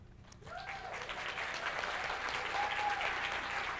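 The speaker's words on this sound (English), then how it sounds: "we're going to give them a big ol' applause" Audience applause greeting a panel of Facebook group administrators as they are introduced, a dense steady clapping from a sizeable crowd that swells quickly and holds at an even level throughout.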